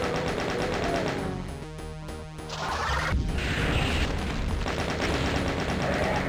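Chaingunner enemies in Doom II (Voxel Doom mod) firing machine guns: dense, rapid bursts of gunfire crackle across the scene, loud and continuous with brief gaps, alone without voices.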